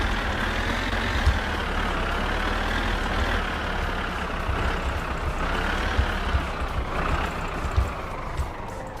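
A heavy truck engine in My Summer Car drones steadily and close, its pitch rising and falling slightly as gears change, with occasional knocks and clunks over the continuous rumble.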